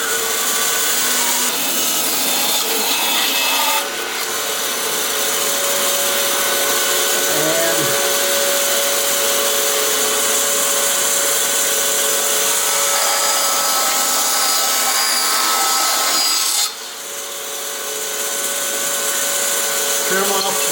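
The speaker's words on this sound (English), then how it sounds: "I'm going to set up my fence on my bandsaw, bring it over so I can trim out" Bandsaw cuts wooden stock guided along its fence with a loud, continuous whining roar that holds steady for most of the stretch, dipping briefly twice.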